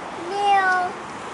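A grey cat gives a single clear meow with a rising-then-falling pitch, close by, during a family shopping outing, with a soft voice and background murmur around it.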